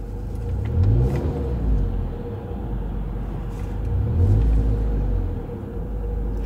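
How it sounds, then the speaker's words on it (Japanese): A Mercedes-Benz A180 Elegance engine idles with a low rumble, then revs up twice as the accelerator is pressed, each rise swelling and settling back, close and steady. "少しだけアクセル踏ませてもらおうと思います。"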